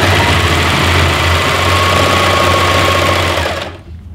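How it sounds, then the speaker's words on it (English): A serger sewing machine stitches a rolled hem along the edge of a towel. It gives a loud, steady, fast-running mechanical whir with a low hum, then cuts off abruptly near the end. "when I get to the edge, I'm going to keep stitching and allow a thread tail to form."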